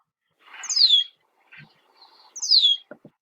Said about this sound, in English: this is a spectrogram of a red-winged blackbird call